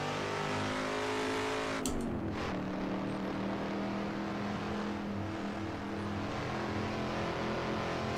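A muscle car engine roars steadily on a hill climb, its tone dropping briefly as it shifts before settling into a sustained, loud drone.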